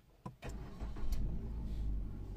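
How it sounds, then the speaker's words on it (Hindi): A cold 1.2-litre car engine idles with a steady low rumble after a couple of sharp knocks at the start, holding at a slightly raised, even pitch throughout. "इंजन जो है वो ठंडा है यानी कि टेम्परेचर इंजन का है वो अभी नॉर्मल नहीं है इसलिए थोड़ा आर ज़्यादा होगा"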